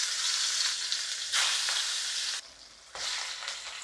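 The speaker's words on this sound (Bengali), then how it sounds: "তেল গরম হওয়ার পর ইলিশ মাছ ছাড়িয়ে দিতে হইবে তেলের ভিতর।" Hilsa fish pieces frying in hot oil in a wok, a loud, dense hiss that runs almost continuously and is close to the mic, dipping briefly before surging again near the end, with no voices.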